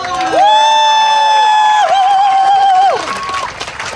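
Crowd at a youth volleyball medal awards ceremony at a Hmong festival cheering loudly, with a long sustained whoop over shouting and applause, fading near the end.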